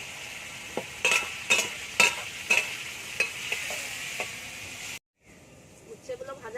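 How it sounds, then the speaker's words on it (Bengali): Bitter gourd fries in hot oil in a pan, giving a steady close sizzle. About eight sharp scrapes of stirring break through it in an uneven rhythm, then a short gap of silence, and the frying starts again more quietly. "উচ্ছেগুলো ভেজে নেবো ভালো করে"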